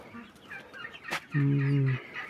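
Chickens cluck softly and intermittently, then one lets out a loud, drawn-out squawk before the clucking resumes.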